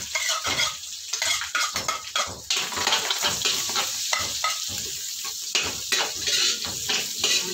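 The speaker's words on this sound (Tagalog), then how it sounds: "dito na natin igigisa yung ating bawang sibuyas" Garlic and onion sautéing in hot oil in a pan for pansit malabon, loud continuous sizzling broken by repeated scraping and clanking strokes of a utensil stirring against the pan.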